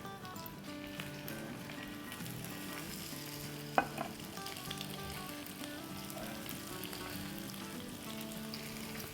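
Meat pieces for boti kabab frying in hot oil over a low flame, a dense continuous sizzle with crackling and one sharp utensil clink partway through, close and steady.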